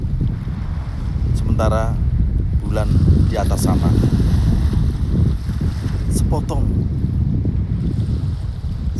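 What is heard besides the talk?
fishing boat engine rumbling at sea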